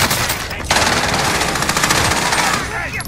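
Rapid automatic MAC-10 fire in Call of Duty Warzone, a loud dense burst of close shots starting sharply and running continuously for over two seconds before tapering off.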